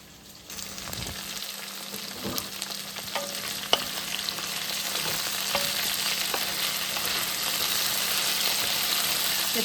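Steady sizzle of food frying in plenty of oil in a pan for a potato chicken fried rice, with occasional soft clinks and stirring scrapes, close and continuous with no voices.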